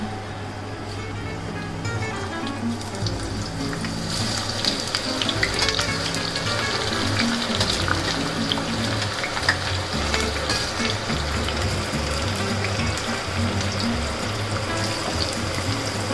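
Onions fry in hot oil while cooking Hyderabadi biryani, a continuous dense sizzle and crackle with a constant low hum underneath, steady and moderately loud.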